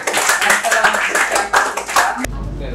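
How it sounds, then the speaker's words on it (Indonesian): A class gives a group applause after their presentation, dense clapping from many hands with some voices mixed in, cutting off abruptly near the end. "beri aplaus buat kelompok 4 ya"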